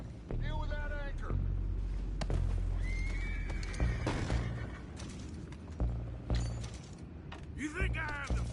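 Horses neighing and whinnying at an outlaw camp in Red Dead Redemption 2, shrill whinnies near the start and end over steady hoof clatter, wind and creaking wood, with men calling out beneath them.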